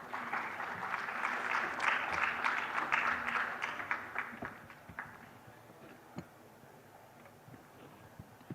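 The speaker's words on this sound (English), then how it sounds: "Could I have a big round of applause," Audience applause at a sustainability summit, a broad clapping wash that is loud at first, then fades over several seconds into scattered, sparser claps.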